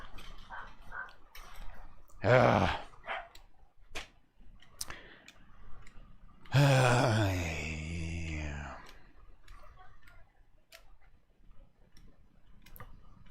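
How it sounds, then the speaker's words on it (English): Dogs making noise indoors in a room: two drawn-out whining or howling bursts a few seconds apart, the second longer, between soft ticking and quiet background voices. "These dumb dogs are killing me"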